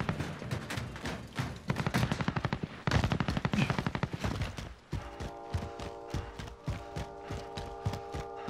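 Rapid automatic gunfire in Call of Duty Warzone (Modern Warfare battle royale), dense bursts of shots crackling loudly through the first half, then continuing as sharp repeated reports over a steady droning tone.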